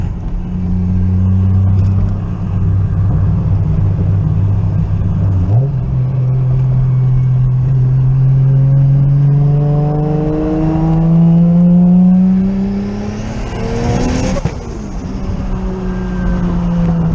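A big-turbo Lexus GS300 pulls hard in third gear under boost, its engine note climbing steadily and loudly, then a sharp break as it hits boost cut before the revs drop away.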